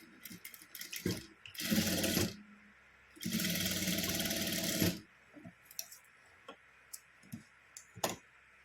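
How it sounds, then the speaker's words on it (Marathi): A sewing machine runs in two sustained bursts as it stitches a blouse latkan, with scattered clicks and handling taps between the runs, close and alone. "हे अशा प्रकारे आपण याच्यावरून अशी शिलाई मारून घेणार आहोत."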